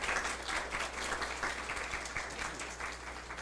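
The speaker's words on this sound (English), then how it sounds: "A round of applause again." Sustained applause from a keynote audience at the ROCLING 2022 computational linguistics conference, a steady, moderately quiet wash of many hands clapping with no pauses, heard from a distance in the hall.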